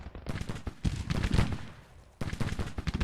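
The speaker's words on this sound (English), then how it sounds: "3rd U.S. Artillery is in action" Volleys of musket fire and artillery fill a Civil War battle in the game Grand Tactician, with dense, crackling gunfire in rapid bursts, a brief lull, then another loud, sustained barrage.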